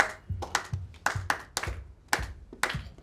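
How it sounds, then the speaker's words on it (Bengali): Hands clap a steady rhythm, with about ten sharp, close claps in quick, slightly uneven succession and no talking. "আমরা হাততালি মেরে দেবো রিদম"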